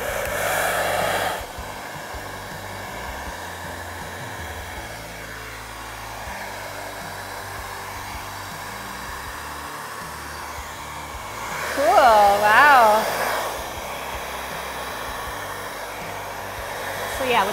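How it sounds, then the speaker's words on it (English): A hair dryer blows steadily and close by on poured resin for the whole stretch, briefly rising louder near the end. "But the hairdryer is really gonna make the magic happen"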